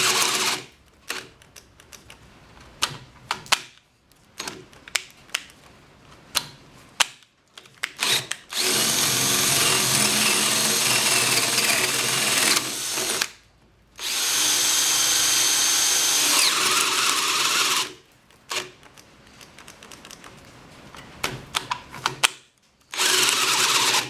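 A Hart 20V 1/2-inch drill whines loudly up close in several long bursts, with pauses and short stop-start taps between runs as it bores a hole.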